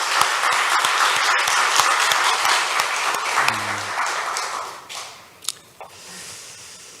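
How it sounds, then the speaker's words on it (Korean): A church congregation at a Sunday worship service applauding: dense clapping for about four seconds that tapers off into scattered claps and quiet room noise. "우리 하나님께 영광의 박수를 올려드리겠습니다"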